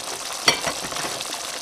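Bicol Express sizzles steadily in a pan, with a brief scrape of stirring near the start over a continuous frying hiss, close and moderately loud.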